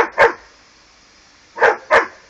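A puppy playing with a garden hose near a sprinkler gives three sharp barks, one early and two close together near the end, with quiet between them.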